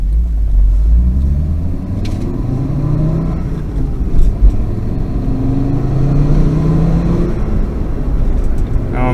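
A 1998 Fiat Coupe Turbo 20V accelerating on the road in third gear around 3,000 rpm, its engine droning with a rising, steady tone under road rumble.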